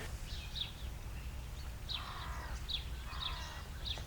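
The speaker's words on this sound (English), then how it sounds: "You can walk outside, you can hear the birds, you can breathe the fresh air." Birds chirp outdoors in short, high repeated calls scattered through the clip over a steady low rumble, moderately near and alone without talk.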